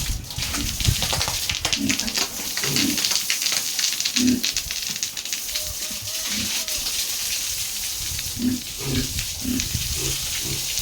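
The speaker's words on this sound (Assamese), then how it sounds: "গাহৰিকেইটা গা ধুই খুব ভাল পায়।" Local farm pigs being washed down with water, a steady broadband spray of splashing water running throughout, with scattered short grunts and squeals from the pigs rising over it.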